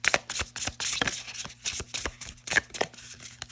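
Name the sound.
riffle shuffling gilded-edge tarot cards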